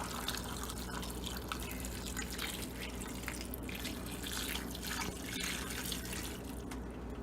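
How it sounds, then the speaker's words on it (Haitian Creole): Water poured into a cooking pot while making Haitian okra sauce (kalalou), a faint, steady trickling and splashing with a continuous flowing hiss throughout. "On a mis de l'eau"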